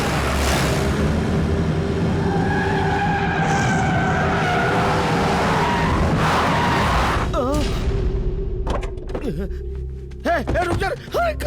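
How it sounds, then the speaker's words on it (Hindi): In an action movie chase scene, a car skids hard and its tires squeal as it swings around a sharp turn, amid a loud engine roar and dramatic effects. Voices shout over the noise. "दुर्गा, गाड़ी घुमा, गाड़ी घुमा, गाड़ी घुमा जल्दी से।"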